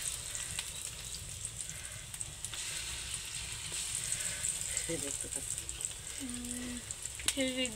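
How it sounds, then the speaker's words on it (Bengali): Lentil fritters (daler bora) frying in leftover oil give a steady, close sizzle and hiss throughout, with a few short tonal voice-like sounds near the end. "ওই বেঁচে থাকা টাউলটুকু দিয়ে মা হচ্ছে এখন বড়া ভাজি করবে"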